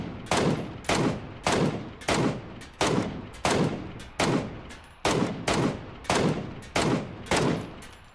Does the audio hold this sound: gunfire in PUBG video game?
yes